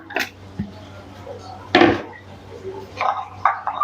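Mutton going into a hot kadhai over a flame: scattered metallic clanks and knocks of a spoon and pot with a brief louder clatter, while a person talks.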